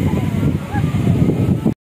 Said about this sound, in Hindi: धूल मट्टी, तेज़ हवा भी चल रही है